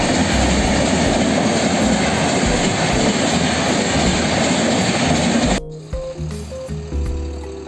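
A train rolls loudly past a level crossing in Jharsuguda, a dense continuous roar of wheels and wagons close by that cuts off abruptly near the end, leaving quieter rattling and background noise.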